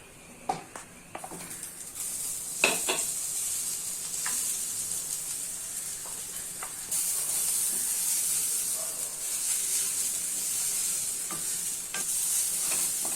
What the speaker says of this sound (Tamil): இப்போ ஒரு வானலில் 1 ஸ்பூன் நெய் போட்டுட்டு தேங்காவை போட்டு வதக்கலாம்.